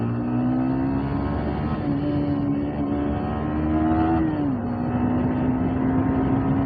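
A Yamaha R15 V4 motorcycle accelerates along a road, its engine note holding a steady, loud drone that climbs gradually, dips, then settles again, with continuous road and wind noise and no talk.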